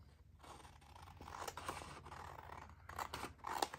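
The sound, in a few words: scissors cutting out paper pieces for digital tags and journal cards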